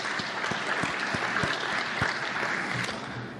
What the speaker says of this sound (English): give yourselves a huge round of applause to celebrate the accomplishments of these outstanding students